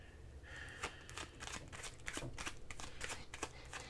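A deck of tarot cards being shuffled: a continuous flurry of papery riffles and rapid card flicks, close to the mic and fairly quiet over low background noise, with no speech.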